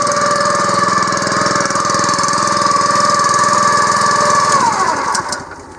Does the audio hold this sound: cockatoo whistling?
no